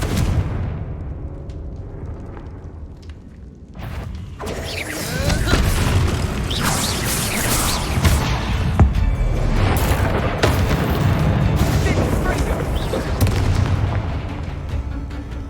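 Spell explosions from Confringo casts in the Hogwarts Legacy video game, a loud sustained barrage of booms and crashing impacts layered with game music, starting after a quieter opening and continuing densely to the end.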